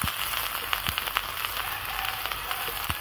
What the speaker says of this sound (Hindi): अदरक और लहसुन को थोड़ी देर के लिए फ्राई कर लेंगे